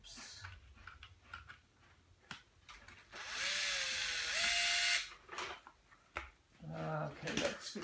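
A screwdriver removes a small screw from an Intel NUC d54250wykh mini PC. Light handling clatter leads into a loud, steady motorised whine lasting about two seconds, followed by more faint tapping and a shorter whir.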